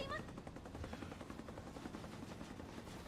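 A helicopter in a video game drones with a continuous rotor chop, faint and muffled under a busy, noisy background, with possible gunfire mixed in.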